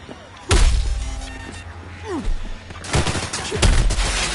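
Gunfire from Cyberpunk 2077 gameplay: several loud, sharp shots and short bursts ring out close, separated by brief gaps with rumbling impacts and a few swooping effects, no talk.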